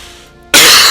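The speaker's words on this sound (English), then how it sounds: "I need to stop coughing." A single sharp, loud cough bursts out after a moment of near quiet.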